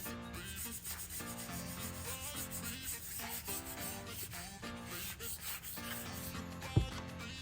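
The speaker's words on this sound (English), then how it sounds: "Now that I did the finish sanding" Hand sanding on a foam and fiberglass prototype body panel, steady back-and-forth rubbing strokes close up, continuous and fairly loud, with one brief knock near the end.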